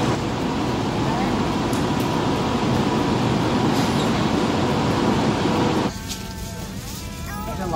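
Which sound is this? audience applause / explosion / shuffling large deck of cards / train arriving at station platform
train arriving at station platform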